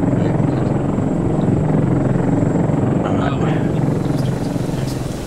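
A video-game helicopter drones loudly and steadily throughout, a continuous rotor-like rumble with voices talking over it.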